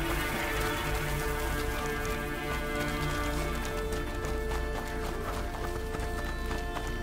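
Steady clip-clop of horse hooves in the video game A Plague Tale: Innocence, under a constant rain-like wash, with faint music beneath.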